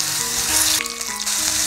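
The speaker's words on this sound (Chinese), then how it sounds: "煎至焦黄" Potatoes pan-frying in oil until golden brown, a loud continuous sizzle with faint stirring scrapes, close up and without voices.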